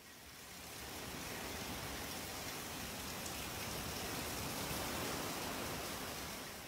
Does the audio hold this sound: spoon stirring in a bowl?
no